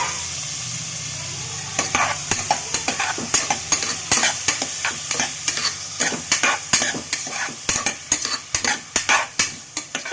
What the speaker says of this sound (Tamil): பொன்னிறமாக வர வரைக்கும் நல்லா வதக்கிக்கலாம்.